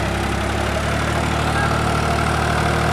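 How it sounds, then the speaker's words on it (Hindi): A Farmtrac or New Holland tractor engine runs at a steady idle, loud and close, with a continuous low rumble and faint knocking vibration, heard alone without talk. "ट्रैक्टर आ गया"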